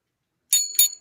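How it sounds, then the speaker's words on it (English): A hotel desk bell is struck three times in quick succession, each ring a bright, close metallic ding that cuts off sharply before the next. "I'm using a hotel bell"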